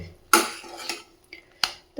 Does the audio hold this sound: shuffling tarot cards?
no